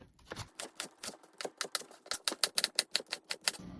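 A knife slices through onion rings on a cutting board, a quick series of crisp, sharp chops that speed up into a steady close rhythm, with no talking.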